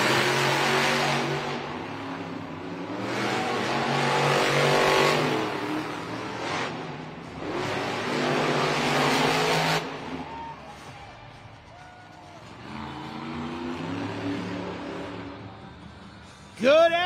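Monster trucks Gravedigger and El Toro Loco race in a Des Moines stadium with loud, surging engine roars and repeated revving bursts. An announcer and crowd noise sit under the engines, and the sound quiets briefly near the end before a sharp final burst.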